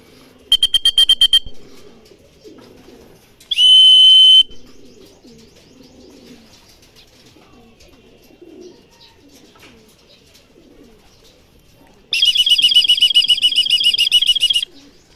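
Racing pigeons return to the loft after a 135 km training flight in Pozorrubio, Pangasinan, with loud bursts of wing flapping as they land, separated by soft, low cooing in between.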